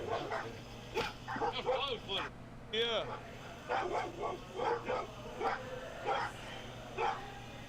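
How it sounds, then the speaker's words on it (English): Several dogs bark and yip from inside a house, a bigger dog among them, the sounds muffled as if behind walls, with someone talking over them outdoors near the door. "those dogs you're hearing right now are inside the house"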